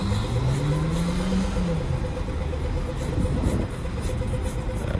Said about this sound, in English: the bus is going by as well